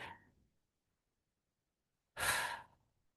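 Two breaths: a soft exhale fades at the start, then after a pause a clear, close slow breath rushes in and out for about a second, alone with no talk.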